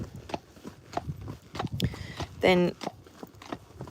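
Friesian horses walk in slow, uneven hoof clops, fairly close, while a person talks over them throughout and a brief tonal creak or snort stands out in the middle.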